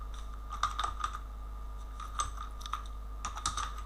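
Close, steady typing on a computer keyboard while writing HTML code, with bursts of clicky keystrokes in small clusters over a constant low electrical hum.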